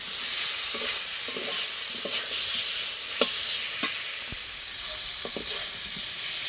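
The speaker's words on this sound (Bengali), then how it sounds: "ভেজে রাখা গাটি কচু আর আলু দিয়ে দেবো ভালো করে একসাথে মিশিয়ে নেবো" Fried taro and potato are stirred into cooked spice paste in a pan. A low sizzle runs underneath scattered scrapes and taps of the spoon against the pan, with no talking.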